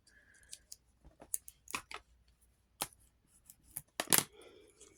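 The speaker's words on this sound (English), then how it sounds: "I'm going to score on this one as well, making sure it's nice and straight." Paper being scored along a straight line to make a small house-shaped goodie box, heard as sharp scraping strokes and light taps spaced irregularly, close and fairly quiet with no talk.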